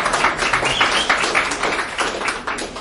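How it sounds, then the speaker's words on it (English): An audience at a mind-mapping conference bursts into cheers and applause, a dense, steady wash of clapping with bright, sharp hand claps that swells and fades slightly over a few seconds. "And just cheers and applause."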